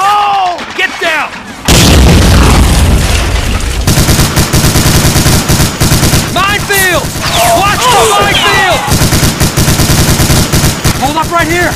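A Bangalore torpedo blast on a D-Day beach in a Lego animation booms loudly, followed by continuous heavy gunfire and artillery; shouted voices cut through the battle noise at times.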